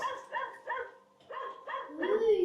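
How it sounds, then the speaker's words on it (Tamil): An alarm clock ringtone of a dog barking in short repeated bursts, two groups of three barks, ending in a whine, sounding electronic and fairly clear. "எழுப்பும் போது உங்களுக்கு நாய் கத்தி வேற டோன் வச்சுக்கலாம்"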